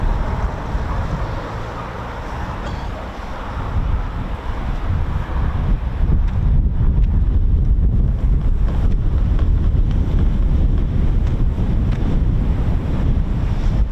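Strong wind buffets the microphone at RAF Coningsby airfield, a loud continuous roar that builds partway through and stays heavy and steady to the end.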